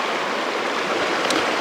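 A jungle river in Abujhmad, running low but still surging, gives off a close, steady rushing roar of churning water with no break.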